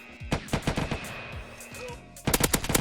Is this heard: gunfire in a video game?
yes